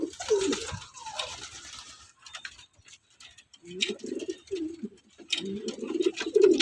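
Pigeon visiting a loft, close soft coos and fluttering, rustling sounds in bursts with quiet gaps between.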